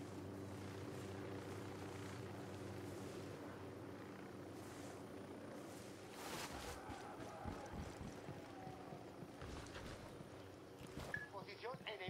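A helicopter in the video game Ghost Recon Wildlands holds a steady, moderately loud rotor drone, with crackling thuds and action noise layered on top in the second half.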